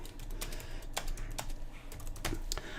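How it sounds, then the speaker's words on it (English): Keys on a computer keyboard are tapped in quick, uneven bursts of clicks, close and clear while text is typed, with no voices. "Let's go and type some text."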